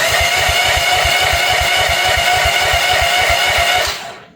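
Small diesel engine of a mini excavator revving under added throttle after a cold start with choke, a loud rapid rhythmic chugging held steady before dropping off abruptly at the end.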